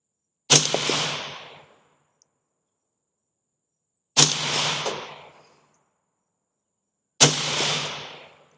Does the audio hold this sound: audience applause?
no